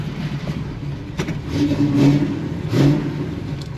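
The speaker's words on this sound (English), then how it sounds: "I think it's ready for a test drive." Big block Chevrolet Nova engine revving on a test drive, two throaty rising revs over a low rumbling idle, close and loud.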